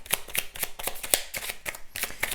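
A deck of oracle cards being shuffled by hand makes a rapid series of crisp, papery riffles and slaps in an irregular rhythm, close and clear.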